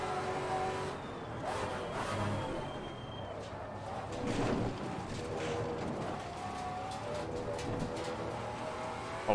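A Maserati MC GT4 race car engine roars on track in Assetto Corsa Competizione, revving loud and close through gear changes with steady, buzzing harmonics and small dips between shifts.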